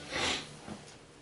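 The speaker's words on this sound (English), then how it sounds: "Sorry for me sniffling" A person sniffling from allergies: a single short, breathy nasal snort followed by a fainter second sniff, close and quiet with no talking.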